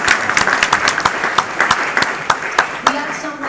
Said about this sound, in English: let's give this guy a round of applause for holding this mic